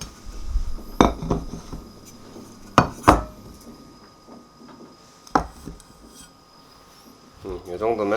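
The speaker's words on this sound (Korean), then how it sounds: "딱 맞는 냄비로 한번 옮겨볼게." Cooked scallion contents being moved into a snugly fitting pot, with a few sharp metallic clinks of utensil against pot and soft scraping between them, close and moderately loud, with brief talk near the end.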